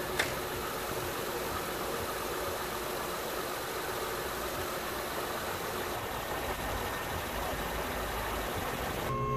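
A 2008 Honda Pilot engine idles before an engine flush, a steady, even, mid-pitched hum that runs unbroken throughout, fairly quiet and heard alone without any speech.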